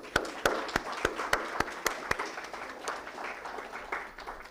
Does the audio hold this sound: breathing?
no